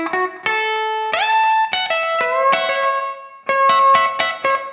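Electric guitar plays double stops on strings 1 and 2, several ringing pairs of notes in a steady sequence with slight bends, clean and fairly loud, in a country style.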